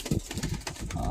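A large Punjabi pigeon coos softly up close, a short low burbling call against some background noise.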